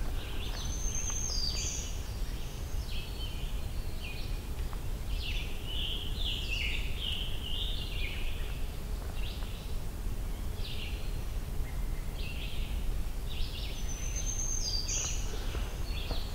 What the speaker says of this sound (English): Black-throated green warbler and another one. Just two different songs.